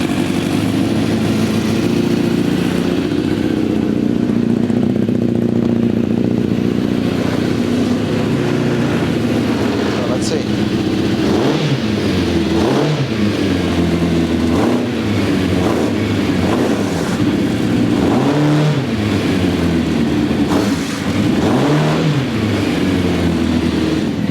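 A Formula Konick race car engine idles steadily and loudly up close, then revs repeatedly in short bursts during the second half, with no talking.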